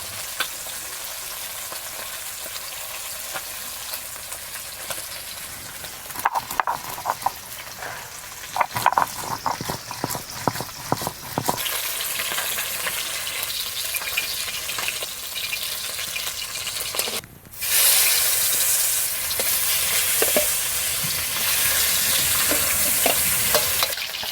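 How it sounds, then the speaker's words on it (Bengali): Fish sizzles and crackles in a frying pan, with intermittent scraping and stirring clatter, then a louder burst of hissing near the end. "এদিকে মাছ ভাজা হচ্ছে"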